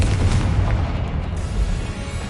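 The Confringo explosive spell blasting in the Hogwarts Legacy video game makes a dense, loud, rumbling boom that fills the whole short stretch without a break.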